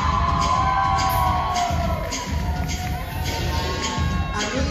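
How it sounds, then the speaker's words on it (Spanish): An audience at a televised variety show in a discotheque roars with loud, continuous cheering, whoops and clapping that fill the room for the whole stretch. "Un gran aplauso para Gia y Will."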